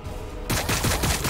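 Warhammer 40k Battlesector gunfire cuts in abruptly as a loud, dense burst of rapid automatic shots, close and continuous, with no talking.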